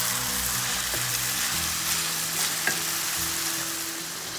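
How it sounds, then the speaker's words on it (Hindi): Keema fries with browned onion in a pan for qeema matar, a steady close sizzle with occasional spoon scrapes and stirring knocks, no voices over it. "अब इसको थोड़ा सा भून लेंगे"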